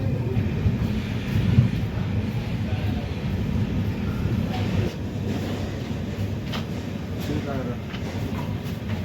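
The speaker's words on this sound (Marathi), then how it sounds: "10:10 कुरुडवाडी रेल्वे स्टेशनवरून आपली दीक्षाभूमी एक्सप्रेस निघालेली आहे" The Dikshabhoomi Express pulls out of platform 3 at Kurduwadi station, a steady low rumble of rolling wheels and carriages heard from on board, constant and fairly loud throughout.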